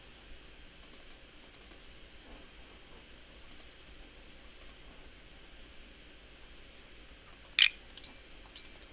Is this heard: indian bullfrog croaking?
no